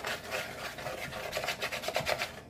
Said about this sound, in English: So, mix all that really nicely here.